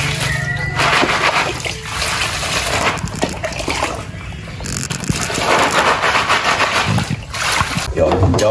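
Snails being rinsed clean in water, with continuous close sloshing and splashing as they are stirred and swished around, no voices.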